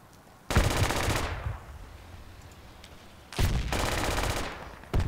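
Automatic gunfire in the military shooter game Project Reality, two loud sustained bursts of rapid shots separated by a quieter pause.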